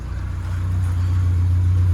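A 1098 A-series engine in a convertible Morris Minor 1000 with an HS2 carburettor idles while warming up, a steady low hum close by that swells slightly, with no talking.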